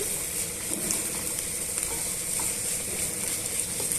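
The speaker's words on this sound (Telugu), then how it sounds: "ఇలా జిగురంతా పోయేంత వరకు వేయించేసుకోవాలి" Sliced okra (bhindi) fries in a pan under constant stirring, making a loud, continuous close sizzle with scraping of the spatula throughout and no talking.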